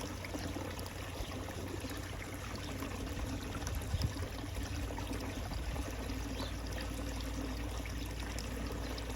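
Water poured off from a cup of concentrates during a gold sluice cleanup, a steady continuous trickle and splash held close, with no talking over it.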